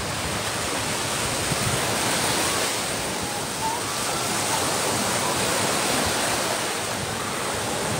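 Sea waves wash steadily at a beach, a constant broad roar of surf held at an even level throughout, with no distinct breaks between swells and no voices.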